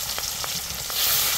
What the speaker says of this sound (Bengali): মাছ দিয়ে দিচ্ছি কড়াইতে